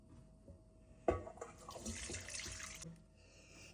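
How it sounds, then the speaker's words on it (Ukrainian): A brief thud, then a few seconds of milk pouring and splashing over bread in a bowl, quiet and close, with no talking. "Зараз ми заливаємо молоком у хліб або можна водою"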